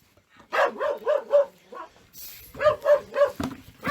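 A dog in a livestock barn barks in two rapid bursts of four or five sharp barks each, loud and close, with a short pause between them and no talk over it.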